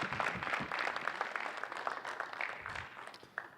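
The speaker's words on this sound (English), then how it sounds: "Let's give Vega a round of applause here." An audience claps for a winner at a university communication studies media showcase, a fairly quiet, moderately dense patter of hands that gradually thins toward the end.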